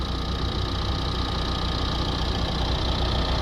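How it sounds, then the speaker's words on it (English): A Nissan X-Trail diesel engine idles steadily with a constant low rumble and mechanical clatter, recorded up close in a workshop with no voices. "So we'll do it with the engine running"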